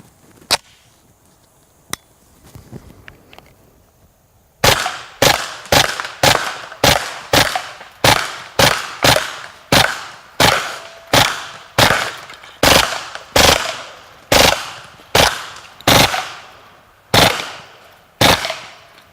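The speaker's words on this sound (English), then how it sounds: "you can actually hear the difference in the rate of fire between the plus P ammunition and some of the regular ball ammunition versus incendiary" KRISS Vector firing plus P, ball and incendiary ammunition outdoors, a few scattered shots followed by a long run of loud, sharp single reports in a fairly steady rhythm, each with a short echo.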